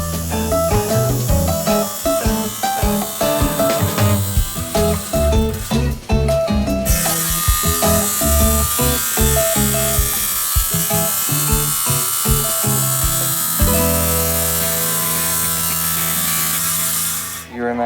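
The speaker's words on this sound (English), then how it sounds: "Sound you hear is my son-in-law Adam cutting up tiny tiles for my bathroom" A power cutter slices tiny tiles for a small bathroom build, giving a loud, continuous whining buzz whose pitch and intensity shift from one cut to the next, with occasional talk faintly beneath.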